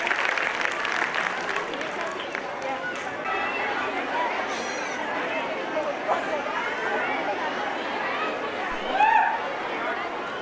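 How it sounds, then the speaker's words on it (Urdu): Sustained crowd clapping at an Urdu school annual gathering, with steady applause and background chatter throughout and a brief louder swell near the end. "زوردار تالیاں چاہیے."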